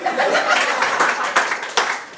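At a comedy open mic, an audience member claps in quick bursts, with scattered chuckles and laughter from the crowd mixed in nearby.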